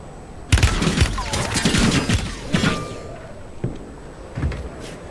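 Video game gunfire crackles in rapid close bursts, several sharp shots and metallic clangs tumbling together before fading into scattered single pops.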